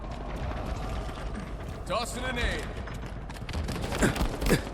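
Gunfire in Halo Infinite, with bursts of shots, whooshing projectile sweeps and crackling impacts over a constant rumbling game backdrop, while someone talks over the action.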